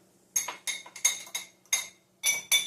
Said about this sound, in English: I'm going to take a fork and kind of stir in the elderberry